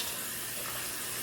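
Hot water gushes steadily from a tap while a jumpsuit is being dyed, a constant close hiss of running water with no voices.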